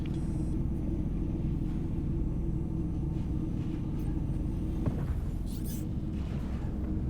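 Spaceship quantum drive spooling up in Star Citizen, a steady low rumbling hum with a swelling whoosh near the end and faint electronic tones, quiet and continuous.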